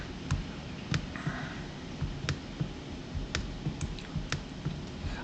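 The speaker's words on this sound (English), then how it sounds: "I know there's a bunch of mouse clicks." A computer mouse gives a string of about ten crisp, faint clicks at uneven intervals over quiet room tone.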